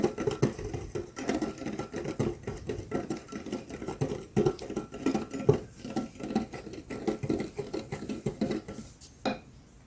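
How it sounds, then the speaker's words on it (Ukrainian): Steady scraping and clinking of a whisk against a bowl of pancake batter, fast and continuous, close by, with no voices. "Все гарненько перемішаємо до однорідності."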